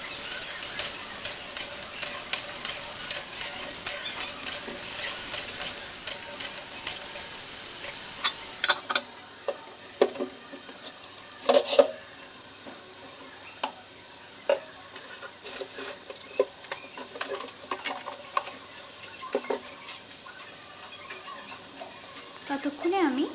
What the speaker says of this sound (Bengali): একটু লবণ হলুদ দিয়ে ভাজতে দেবো এটাকে নরম করে।